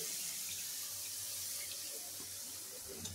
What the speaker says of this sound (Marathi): मस्त थोडंसं पाणी घालायचं